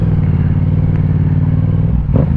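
2022 Yamaha R7 sport bike fitted with a Yoshimura exhaust, a loud steady engine drone close to the microphone with a brief rasp near the end.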